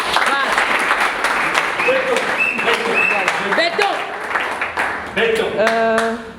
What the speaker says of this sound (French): j'aimerais que vous puissiez applaudir pour lui